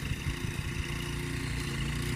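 A garden tiller's engine runs steadily in a vegetable garden, a loud, close, continuous mechanical drone with a rough low rumble and no voices over it.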